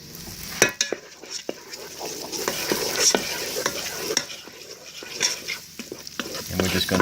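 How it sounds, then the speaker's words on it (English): Garlic and onions sizzle and fry in a Ninja Foodi pot while a spoon stirs them, giving a steady hiss broken by sharp scrapes and clinks, close and fairly loud, with no talking. "We're going to go ahead and get the garlic and the onions in. And let's stir those up."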